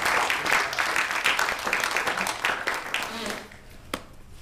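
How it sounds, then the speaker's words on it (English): An audience at a university panel on the Inter-American slave trade claps in a burst of scattered, rhythmic hand claps that fade out toward the end, with a sharp single clap near the close. "but let's clap it one more time"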